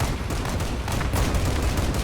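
A chain gun and 25mm cannons on a vehicle in the video game Crossout fire in a loud, continuous barrage, with dense rapid shots blending into one roar.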